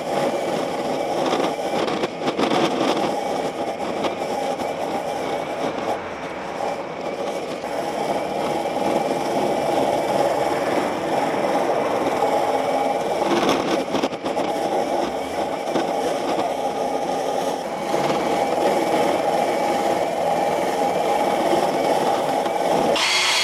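A petrol-powered weed and debris brush scrubs moss with a loud, continuous whirring and scraping drone that holds steady throughout, with brief rougher bursts as the bristles bite into the surface.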